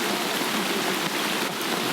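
Steady, dense rain pours down in the Amazon rainforest of Brazil, a continuous broadband hiss of drops hitting leaves and surfaces with no voices.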